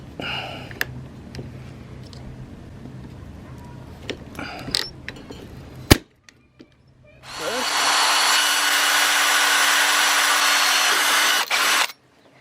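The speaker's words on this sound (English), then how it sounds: "The other pop rivet." A pop rivet is set into a camper roof with a riveting tool, a series of clicks and a sharp snap, followed by a long steady whine of a power tool running alone.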